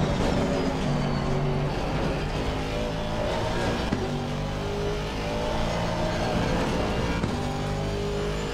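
An Aston Martin Vantage V8 GT3 racing a lap in a driving game, its V8 engine loud and close, revving continuously with rising pitch sweeps and gear changes, plus faint tire noise.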